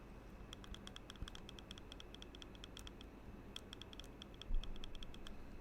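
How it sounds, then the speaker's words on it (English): Faint, light clicks and creaks from a Fantech Aria computer mouse being tapped lightly on its front after three months of use, coming as a quick irregular run of small ticks close to the microphone, with no talking. "So it's basically like a light clicking noise on the front here."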